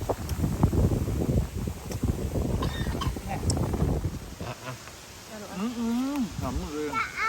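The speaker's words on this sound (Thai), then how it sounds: "แต่ลมจริงๆนะ" Strong storm wind buffets a hut by a rice field, roaring and gusting in loud rough bursts against the microphone for the first several seconds, then easing as a person talks.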